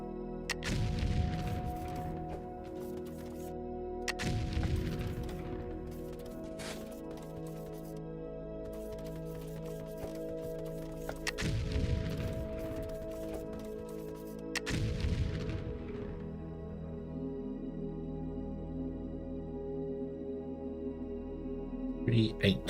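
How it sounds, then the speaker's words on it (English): Explosions in the factory-building video game Foundry, four heavy booming blasts spaced several seconds apart over a steady low game hum, each with a sharp onset and a long rumbling decay. "I enjoyed the explosions"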